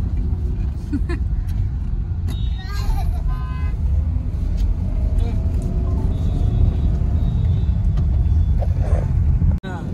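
On the Lonavala ghat road, vehicles climb uphill in a constant heavy engine drone with rumbling traffic, a faint horn toot and wind noise, heard from a moving vehicle.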